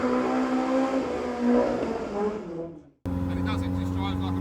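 A slammed Ford Anglia's engine drones loudly while driving, a steady rough hum that fades and cuts briefly before resuming under voices.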